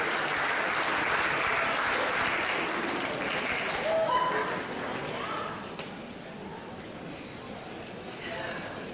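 Audience applause at a high school scholastic awards ceremony, a dense steady patter of many hands that fills the hall, tapering slightly toward the end, with faint voices mixed in.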